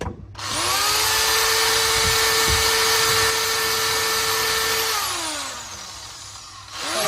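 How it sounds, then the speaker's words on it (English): An overloaded washing machine runs loud and close, a rising whine that holds steady with a rumbling drum, then winds down and fades toward the end. "I don't know if you guys can hear my washer, but somebody overloaded it."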